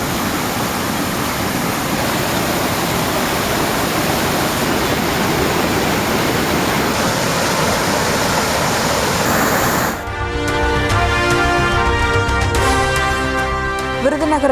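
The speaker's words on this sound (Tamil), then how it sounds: "ஸ்ரீவில்லிபுத்தூர் அருகே உள்ள மீன்வெட்டிப்பாறை அருவியில் கொட்டும் வெள்ளம்" Floodwater pours over the Meenvettiparai waterfall near Srivilliputhur, a loud, constant roaring rush that fills the scene, and a music bed comes in during the last few seconds.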